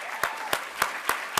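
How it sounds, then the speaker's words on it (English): An audience at a tech meetup at the White House applauds its speakers, heard as five evenly spaced sharp claps, fairly faint, with no voices over them. "join me in a round of applause for all of our speakers so far"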